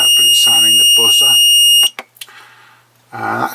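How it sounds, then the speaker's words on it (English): A steady high-pitched electronic buzzer tone from a Raspberry Pi expansion board sounds continuously for about two seconds, then cuts off, with faint clicks and a brief voice following. "it's sounding the buzzer."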